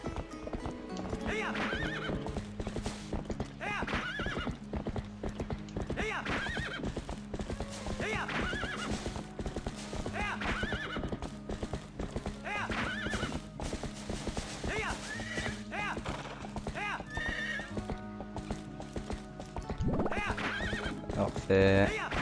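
Horse hooves clip-clopping at a gallop with repeated neighs from Zelda: Twilight Princess, a steady rhythmic gait running throughout under game music and someone talking over it.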